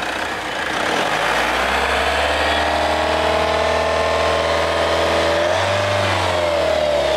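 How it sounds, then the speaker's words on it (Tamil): A Mahindra Bolero Neo Plus SUV's 2.2-litre diesel engine idles, then revs up in a smooth, steady climb before settling, loud and close with no voices. "லைட்டா ரெவ் பண்ணுவோம்."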